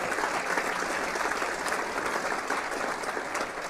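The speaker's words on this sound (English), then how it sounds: "Please give them a round of applause." Sustained applause from a crowd, a steady, even roar of many hands clapping throughout.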